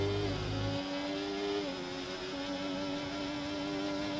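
A race car in a racing video game at the Zandvoort circuit bounces off its rev limiter, a sustained buzzing engine tone that stutters and flattens. It is moderately loud with no talk over it.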